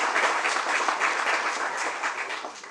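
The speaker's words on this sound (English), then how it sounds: "Please give them a round of applause" An audience at a park grand opening applauds, a sustained wash of clapping that rises and dips slightly before tapering near the end.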